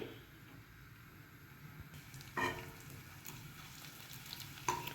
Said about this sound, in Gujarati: આપણે સૌથી પહેલાં ગુંદને ઘીમાં તળી લઈએ.